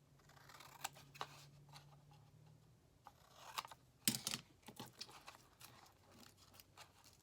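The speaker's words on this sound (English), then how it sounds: "And just go ahead and cut all 4 of your corners." Scissors snip the corners off a paper tag for a handmade tag journal: a few quiet, sharp cuts and clicks scattered through a hushed room, with a small cluster of snips near the middle.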